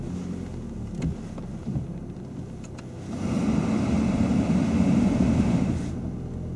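A car engine idles, then rises to a steadier, louder drone as a learner driver sets the gas in first gear, heard from inside the car with a low rumble.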